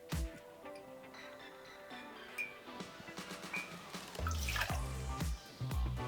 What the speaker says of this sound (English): we're starting with the base ingredient, which is the pisco, and we're going to do 60 mils.